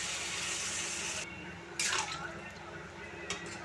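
Water pours into a pan of prawn and gourd curry, a hissing rush that cuts off and is followed by a short splashy pour, with someone talking over it.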